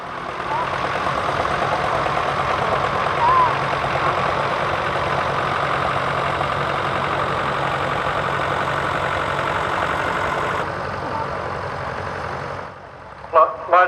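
A small John Deere tractor engine runs at a steady idle for several seconds during a heritage parade, then the sound drops off near the end.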